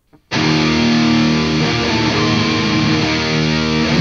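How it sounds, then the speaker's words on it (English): Heavily distorted electric guitar chord played through a Line 6 amp, ringing out loud and sustained, thick buzzing tone held steady with no voices. "that guitar sounds like it's coming through a line six"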